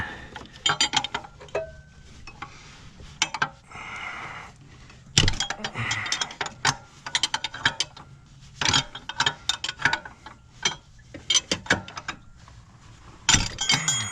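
Big pipe wrench worked on a stuck fan clutch of a Ford Modular 5.4 V8 engine, a run of sharp metallic clanks, ticks and ratcheting knocks in irregular bursts with short pauses, close and moderately loud.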